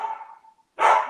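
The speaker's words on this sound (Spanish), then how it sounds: "disculpen mi perro, ¿eh?" A dog barks indoors, a drawn-out whine-like bark trailing off, then a loud sharp bark close by after a short pause.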